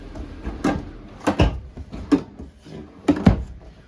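Kitchen drawers in a 2022 Forest River Tracer 260BHSLE travel trailer are slid and bumped shut, giving several sharp knocks and sliding clatters spaced over a few seconds.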